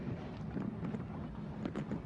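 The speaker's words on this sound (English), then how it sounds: "it's nice when that cool wind hits you" A cool outdoor wind blows steadily, buffeting the microphone with a continuous low rumble, and no voices are heard.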